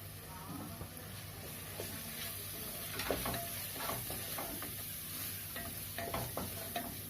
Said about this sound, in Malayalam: മല്ലിപ്പൊടി മഞ്ഞൾപ്പൊടി നമ്മൾ നന്നായിട്ട് വരട്ടിയെടുത്തു